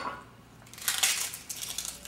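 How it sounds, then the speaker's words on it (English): Papery skin being pulled off a red onion by hand, a close dry crinkling and crackling that swells after a quiet start and continues in short rustling bursts, no voices. "we'll take the skin off of the red onion"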